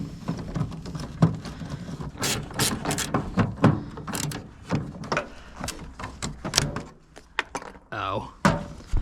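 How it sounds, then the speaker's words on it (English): Screws are worked loose on an old project truck: a ratchet clicks in quick bursts, mixed with sharp metallic taps and clanks at close range, and the activity stops and starts irregularly. "I'll unscrew the two that I see, and then I'll just go ahead and break the rest."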